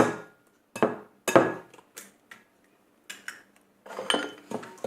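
Eggs being beaten into creamed butter and sugar for a small dried-fruit cake, a close series of sharp clinks and knocks of utensil against bowl in uneven bursts, separated by brief quiet gaps.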